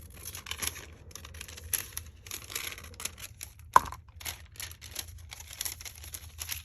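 Glassine paper is handled and cut out, with soft crinkling, rustling and short snips in irregular bursts, quiet and close, with one sharp tap midway.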